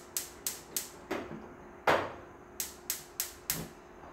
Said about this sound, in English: I'm just gonna turn the fire on